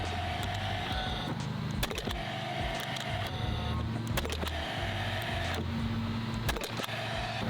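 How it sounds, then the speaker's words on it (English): A Paslode cordless siding and fencing nailer drives 1 7/8 inch galvanized nails into treated lumber pickets, giving a few sharp cracks spaced seconds apart over a steady, loud mechanical background. "we're shooting the Paslode Cordless Siding and Fencing Nailer 1 7/8 galvanized nails into treated lumber pickets"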